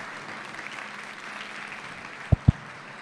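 An audience at a conference talk applauds a speaker as she takes the stage, a faint, distant spread of clapping with two sharp close thumps near the end.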